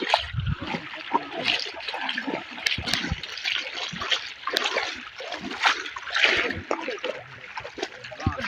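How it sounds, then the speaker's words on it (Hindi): Flooded river water churns and splashes in a village, a rushing, turbulent wash heard up close with someone talking over it. "तो ये दरिया का पानी है"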